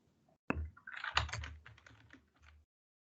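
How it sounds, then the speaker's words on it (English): Close, quiet keystrokes on a computer keyboard, with the F10 key among those pressed: a sharp first tap, then a quick cluster of clicks and a final press before silence. "And you try to type something on F10."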